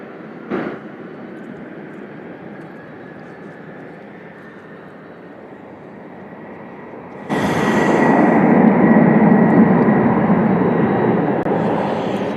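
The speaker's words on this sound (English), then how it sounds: "the gentleman you heard taking off is going to Oklahoma City. That's an Airbus A300" An Airbus A300 takes off for Oklahoma City: a steady jet rumble is broken by a short thump, then swells sharply into a loud, broad roar of engines at takeoff power that holds to the end.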